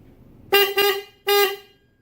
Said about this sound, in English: Let's see if they actually honk.